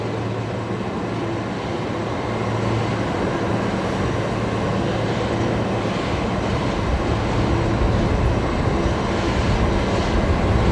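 A QantasLink airliner arriving at Brisbane Airport makes a loud, steady broadband roar that holds evenly throughout, with no voices heard.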